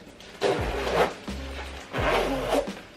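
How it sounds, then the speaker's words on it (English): A plum-colored winter jacket with a fur-trimmed hood being zipped up in two or three close, rasping pulls, each ending in a soft thud, heard without talk. "It zips all the way up like this."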